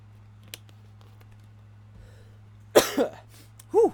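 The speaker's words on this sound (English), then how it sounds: "It's just this cough is persisting." A person with a lingering cough coughs two or three times near the end, sharp and close, after a long stretch of quiet room hum.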